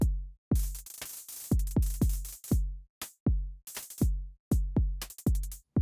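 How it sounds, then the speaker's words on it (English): A synthetic drum pattern of sharp, bright hi-hat ticks over deep booming kick hits, playing in a steady, syncopated electronic rhythm with no voices. "I've recreated this hi-hat drum beat thing that I had from another video"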